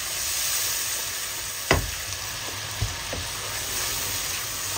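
Spices sizzle and fry in oil in a pan with a steady hiss, broken by a couple of sharp clinks and scrapes from stirring, close up and with no talk.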